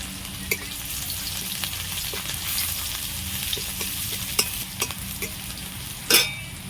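Chopped green chilli and garlic paste crackle in a little oil with a steady close sizzle, and a utensil now and then clinks against the pan, with no voices.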